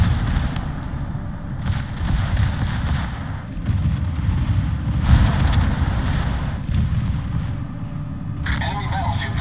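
A battleship in a naval combat game fires its main guns in heavy booming salvos, the deep thuds and rumbles repeating every few seconds over a constant battle din, while a voice talks over them.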